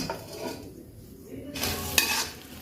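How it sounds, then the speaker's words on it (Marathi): Onion sautés in a hot wok, sizzling while a spatula stirs and scrapes against the metal, with a louder burst of frying toward the end. "त्या कढईमध्येच आपल्याला कांदा परतून घ्यायचा आहे"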